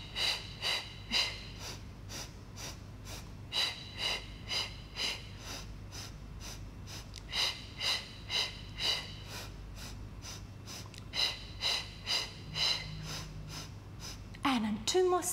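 Rhythmic bursts of breath during a Pilates matwork exercise, a steady series of short, fairly close inhales and exhales repeated in even groups, over a faint low background hum.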